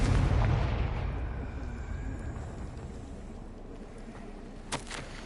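A fiery Confringo spell blast in Hogwarts Legacy, with a big booming burst at the start that rumbles and slowly fades into a long tail, without talk.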